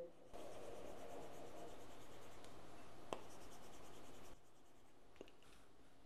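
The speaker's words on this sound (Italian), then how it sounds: "È come scrivere su un taccuino" Soft, continuous scratching of a stylus dragged across a Huawei MatePad 11.5 S PaperMatte e-paper tablet, close and quiet, with a brief tap midway and a lighter stretch of strokes near the end.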